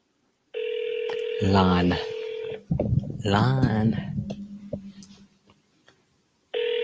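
Telephone tones while placing a call to a seller named Lon: steady dial tone, a burst of touch-tone dialing beeps and a ringback pattern, interleaved with a man's speech, then a pause before another tone starts.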